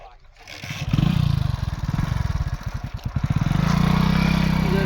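A motorcycle engine chugs and revs loudly and close by on a hill road between mountains, a steady throbbing pulse that picks up toward the end.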